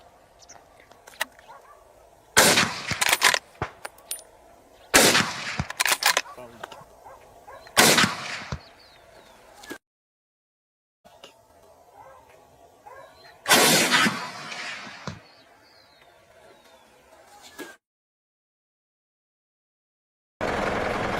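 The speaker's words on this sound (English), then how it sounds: "Shot after shot rang out" Loud gunshots ring out during a boar hunt, several sharp blasts in irregular bursts separated by quiet stretches, with faint whispered talk between them.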